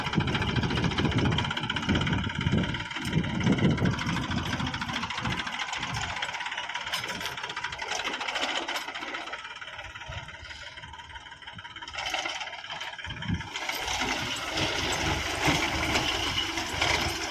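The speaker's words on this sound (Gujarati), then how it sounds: "ન્યૂ હોલેન્ડ ટ્રેક્ટર છે" A New Holland tractor engine runs continuously during sowing work on a farm plot, a steady close mechanical drone with a slight knocking rhythm that rises and falls a little, with almost no talk.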